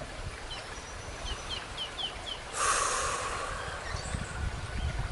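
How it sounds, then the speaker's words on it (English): Birds chirping close by at the edge of a forest, a short run of rapid repeated high chirps, then a soft rushing swell and a few more faint calls over a quiet outdoor hush. "And then I heard chirping of birds."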